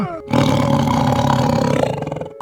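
A tiger gives one loud, sustained roar that rasps and rumbles for about two seconds, close up and alone, with no talk over it.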